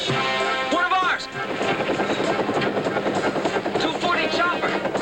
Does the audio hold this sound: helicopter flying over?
yes